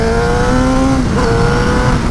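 Motorcycle with an oil-injected two-stroke engine under a cranked throttle, a loud, close, sustained engine drone with steady harmonics for about two seconds and a slight pitch shift midway, with no talking.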